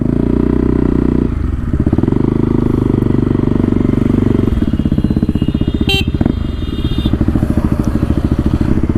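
A motorcycle engine, one that was reluctant to start and is low on fuel, idles loudly and close with a steady throbbing pulse, the tone shifting and roughening partway through, with a brief sharp tonal blip midway.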